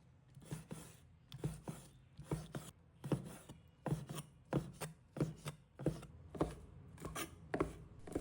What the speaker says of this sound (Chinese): 把它控水捞出，放在案板上，把它切成小块